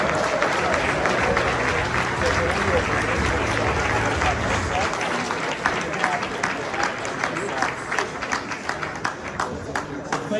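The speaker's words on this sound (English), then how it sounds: "please give a very big round of applause for Governor" Audience applause for Governor J.B. Pritzker at a cannabis capital conference, a loud, dense ovation that thins midway into scattered individual claps as it winds down.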